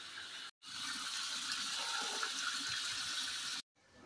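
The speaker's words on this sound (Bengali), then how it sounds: "আর এদিকে বালতিতে জল নিচ্ছি" Water gushes steadily from a tap into a bucket, a broad continuous rush at close range lasting about three seconds, with brief gaps at the start and end.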